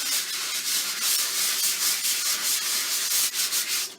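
Sandpaper rubs back and forth over a gessoed surface in steady, continuous strokes, a close, dry, hissy scratching that keeps an even loudness with slight pulses as each stroke turns.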